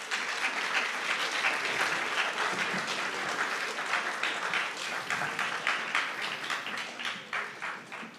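Sustained audience applause at a domestic violence awareness symposium, a dense steady wash of many hands clapping that thins and tapers toward the end.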